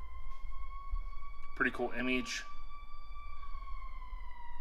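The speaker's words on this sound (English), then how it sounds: "Hear the sirens in the back." A steady emergency-vehicle siren wails in the background throughout, its tone held and fairly faint, while someone talks briefly in the foreground.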